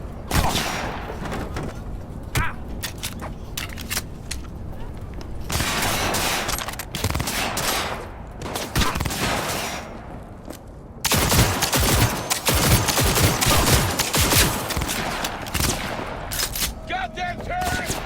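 Heavy gunfire fills a firefight in the video game Cyberpunk 2077, with dense bursts of automatic shots and booming blasts going on almost without a break, and shouting voices now and then underneath.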